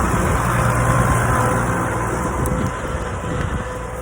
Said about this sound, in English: I'll let this tractor go by.